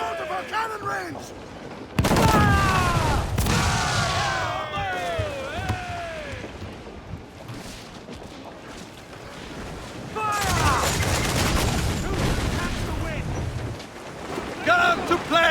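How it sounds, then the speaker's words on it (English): Enemy ship cannons fire in a naval battle in Assassin's Creed IV: Black Flag, loud booming volleys around two and ten seconds amid wind and creaking sea ambience, with shouted crew voices over the action. "Incoming fire! They fire quickly, sir!"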